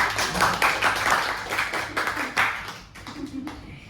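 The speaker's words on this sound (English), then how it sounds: "One more round of applause for Sachin Kumar" A crowd claps a round of applause for a guest at a talk show, the sharp claps mixed with a voice talking over them, the clapping rising and falling before thinning out.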